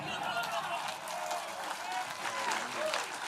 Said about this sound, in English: ladies and gentlemen, applaud while I walk over to my chair